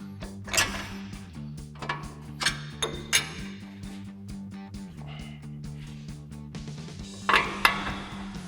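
A metal bolt slides through the lower mount of a Bilstein B8 5100 front shock on a 2015-2020 Ford F-150, giving a run of close metallic clinks and scrapes over a steady low hum.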